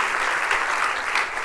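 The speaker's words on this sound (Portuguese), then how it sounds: "dê uma salva de palmas a Jesus" Church congregation applauding after a prayer, a steady, dense wash of clapping that fills the whole moment without pause.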